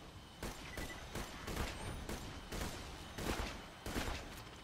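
An enemy firing a rapid barrage of missiles or explosive rounds in the video game Borderlands 2, a dense, steady run of loud bursts over continuous battle noise, with no speech.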